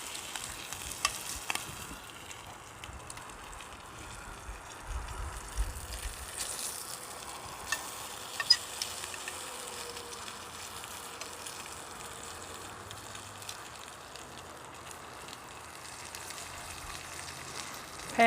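Food fries in a pan over a solo gasifying wood stove, a steady crackling sizzle with scattered pops and occasional stirring scrapes, close and moderately loud throughout, no talking.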